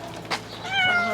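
A feral cat caught in a live trap lets out a single drawn-out, plaintive meow, close and distinct, with a short soft noise just before it.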